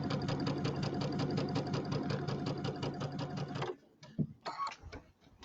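Sewing machine running fast while stitching quilt pieces, a steady close whirring hum with rapid needle pulses for several seconds before it stops, followed by a few soft handling clicks.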